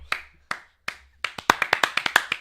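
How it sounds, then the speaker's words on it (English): A few people on a live podcast set clap sharply: three slow, separate claps, then a quicker run of crisp, close hand slaps that build into rapid rhythmic clapping. "You started clapping, so."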